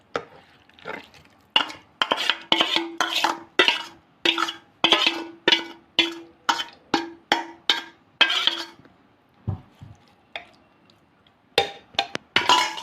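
Mutton pieces go into a pressure cooker for biriyani, a long run of rapid, regular clinks and scrapes of a utensil against metal, close and loud, followed by a short pause and a few more knocks.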